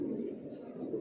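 A silver racer pigeon coos in a loft, a continuous low throaty rolling call heard close and alone for a moment.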